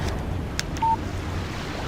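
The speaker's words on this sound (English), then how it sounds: "Text message from Barry" A short electronic chime from a phone receiving a text message in the Alan Wake video game rings out once, clear and brief, over a low windy ambient bed.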